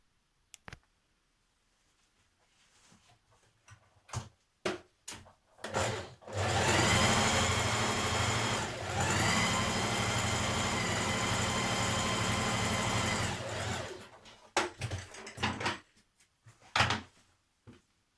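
A sewing machine stitches around the neckline of a dress in a long, even run of about seven seconds, close and fairly loud, with clicks and handling sounds before and after it.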